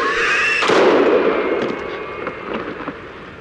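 A single sharp gunshot in the video game House of Ashes cracks out loudly near the start, then fades into a rumbling reverberant tail over an ambient game soundscape.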